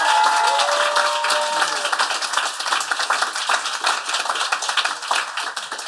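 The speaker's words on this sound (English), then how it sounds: "we must give a fantastic and huge round of applause to Yvonne Strain here." A crowd at an awards ceremony claps steadily in dense, lively applause, with a brief tonal sound at the start fading under the clapping.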